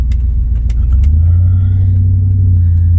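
A pickup truck engine, raced against a Raptor or Lightning, idles roughly and then revs up into a loud, steady, close rumble on a cold day to warm up the tires.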